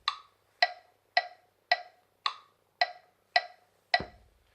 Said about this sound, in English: I have a metronome set up to be ticking away at 110 beats per minute